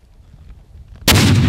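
Hand grenade explosion during military training, a single sudden loud blast after a quiet moment, with a heavy booming rumble that carries on to the end.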